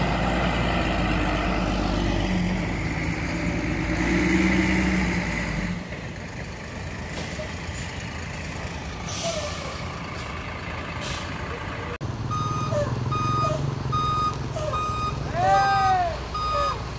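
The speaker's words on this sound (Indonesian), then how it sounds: "baru datang lagi nih bis-bis yang kelima" Buses pull in with heavy engines rumbling and an air brake hissing, then a truck's reversing alarm beeps in a steady repeating rhythm, loud and close, with engine noise throughout.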